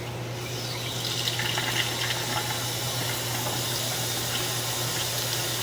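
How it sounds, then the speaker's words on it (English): Water runs steadily through a residential drain pipe during a camera inspection, a continuous broadband rush with a low steady hum beneath, no voices. "I'm going to actually run a little bit of water here"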